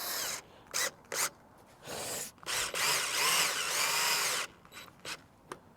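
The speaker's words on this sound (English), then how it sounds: "now I'm going to try to see if this screw taps into there all right" A power drill with a Pozidriv bit drives a screw into a campervan awning rail, heard as short close trigger bursts followed by a longer whirring run with slowing pitch, then a few brief clicks.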